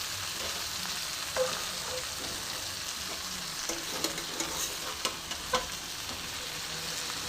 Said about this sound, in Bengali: এবার খুব সুন্দর করে তলা ওপর মিশিয়ে নেবো।